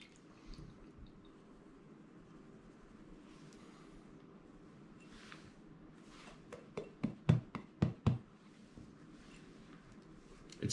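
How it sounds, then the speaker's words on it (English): Concrete densifier liquid poured onto a concrete surface and swished around, heard as faint, quiet wet movement that builds to a brief cluster of sharp drips and splashes near the end. "Pour this in here. Swish it around a little bit."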